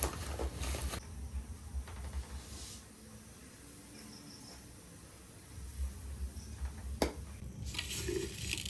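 Loose dry tea leaves poured from a tin into a container, giving quiet rustling, pattering bursts at the start and again near the end, with a softer hush between and no talking.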